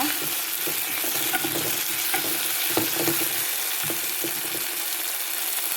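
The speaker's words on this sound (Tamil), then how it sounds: "தக்காளி பழம் போட்டு உப்பும் போட்டேன் நான் இப்போ டக்குண்டு வதங்குறதுக்காக" Tomatoes and salt sautéing in a pan for a fish curry, a loud continuous close sizzle with scattered scraping stirs, no talking.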